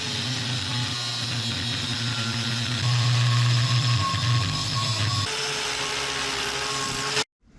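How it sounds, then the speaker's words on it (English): A power tool grinds and whines steadily through aluminum for several seconds, loud and close, with the pitch shifting partway through before it cuts off abruptly. "Cutting aluminum sucks."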